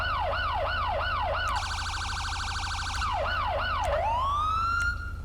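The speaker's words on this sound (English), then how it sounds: "I've also got custom sirens" An electronic police siren in a FiveM roleplay video game cycles through patterns: a repeating wail, a rapid warbling yelp, then the wail again, loud and steady with no talking.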